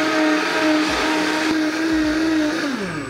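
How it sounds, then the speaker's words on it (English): Blender running on high, blending a tomato cashew sauce for butter chicken, a loud close whirring motor whine with the pitch shifting slightly as the contents churn, no speech. "Back into the blender we go, and we blend on high for 1 minute."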